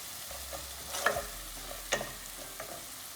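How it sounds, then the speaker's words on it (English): Tomatoes cooking in a pan for Mexican rice, heard as a soft, steady sizzle with a few brief stirring scrapes of a utensil against the pan, fairly quiet and close, with no voices. "you mix everything together and let the tomatoes cook for another 30 seconds"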